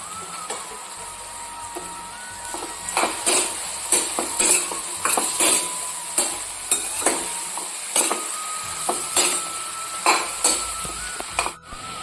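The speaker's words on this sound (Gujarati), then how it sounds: "હવે આ તુરિયાને એક મિનિટ માટે આ જ રીતે સંતળાવા દઈશું" Chopped ridge gourd sautéing in a pan for a Kathiyawadi gourd and sev curry, a steady close sizzle broken by repeated scraping and clinking of a spoon against the pan.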